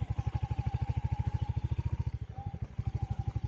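A Royal Enfield Hunter 350 motorcycle rides a dirt track at night, its single-cylinder engine thumping in a steady rapid low pulse, close and loud, briefly easing off before picking back up.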